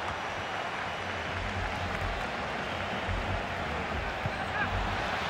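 Stadium crowd noise in EA Sports FC 24 football match around a set piece, a steady dense roar with scattered applause, moderately loud and continuous throughout.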